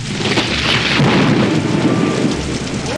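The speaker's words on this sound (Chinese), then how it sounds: "雷声震耳，暴雨如注" A film scene's heavy downpour with rolling thunder: a dense, loud roar of rain on surfaces and a deep rumble that swells and fades, with no voices.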